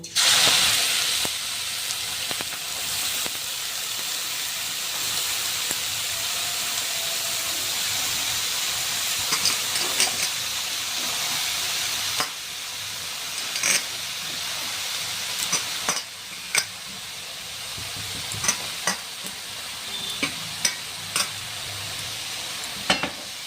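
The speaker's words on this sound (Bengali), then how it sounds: "এবার আমি এই ফুলকপিগুলো যেগুলো গ্রেট করে রেখেছিলাম সেগুলো আমি কড়াইয়ের মধ্যে দিয়ে দেবো।" Grated cauliflower hits hot oil in a wok for gobi paratha filling, giving a loud, steady sizzling hiss that gradually settles, broken by occasional sharp stirring clinks toward the end.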